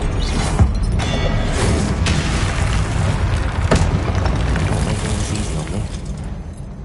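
The Confringo fire spell detonates in Hogwarts Legacy, a dense wash of booming blasts and crackling debris that stays loud and continuous, with sharp bursts punctuating the rumble.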